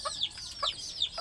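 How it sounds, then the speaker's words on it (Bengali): Newly hatched native chicks and hens on a small poultry farm, giving soft repeated high peeps and clucks in three short bursts, fairly close and alone. "তো দেখছেন আমাদের মুরগির বাচ্চা উঠেছে"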